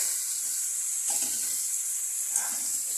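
Shrimp heads frying in hot oil with onion and garlic, a steady bright sizzle with faint stirring scrapes around the middle and near the end, close and continuous.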